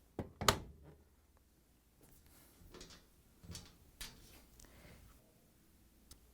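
A Whirlpool washer door is pulled open, starting with a sharp latch click followed by softer knocks and rattles as the door moves, all close and quiet.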